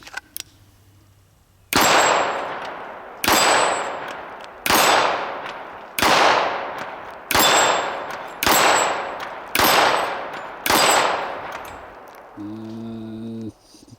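Gunshots strike a steel dueling tree target on an outdoor range, seven loud sharp bangs at an even pace, each followed by a ringing metallic clang that fades away, with a short tonal hum at the end.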